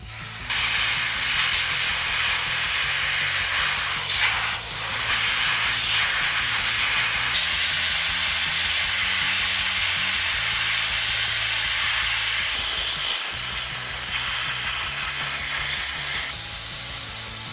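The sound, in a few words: compressed air blowing on electric motor shaft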